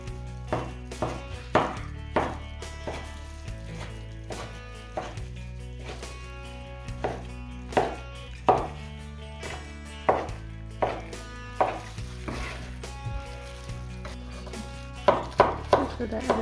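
Tomatoes are chopped with a knife on a cutting board for a lagman mixture, sharp, close chops landing at a fairly regular pace throughout over soft background music.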